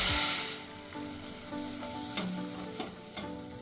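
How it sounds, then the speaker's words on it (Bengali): Ground spices—coriander, cumin and garam masala—fry with a splash of water in a pan for a brinjal dish, sizzling steadily with a loud initial hiss and a few scraping stirs of the spoon. "সামান্য জল দিয়ে মশলাটা কষিয়ে নেব।"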